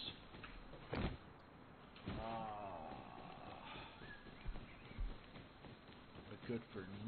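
Horse hooves clip-clopping in a video game, heard amid game effects and sporadic thumps while a player talks excitedly over them.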